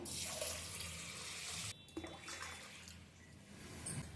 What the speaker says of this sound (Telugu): కడిగి నీళ్ళు పోసి నానబెడుతున్నాను